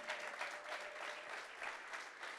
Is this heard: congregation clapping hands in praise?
yes